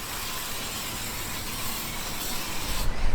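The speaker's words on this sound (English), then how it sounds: "So all I do is get this and spray it on." A steady, loud aerosol hiss sprays dry rot protection continuously for a few seconds onto a 4x4 vehicle's parts, close up, with no talking.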